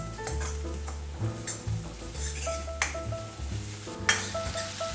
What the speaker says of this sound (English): I'll let the mushrooms stir fry.